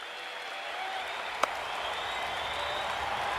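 Crowd at a cricket match applauding a dot ball in a short, steady wash of clapping with one sharp louder clap in the middle.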